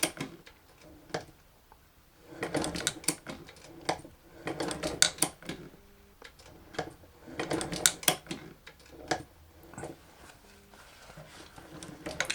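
A sewing machine stitches slowly around a curve, running in short uneven bursts of rapid needle ticks separated by pauses while the fabric is steered.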